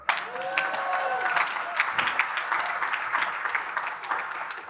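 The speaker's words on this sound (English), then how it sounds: "You're supposed to clap." Audience applause fills a room at a talk on overdose prevention centers, a dense steady wash of clapping throughout, with faint voices mixed in.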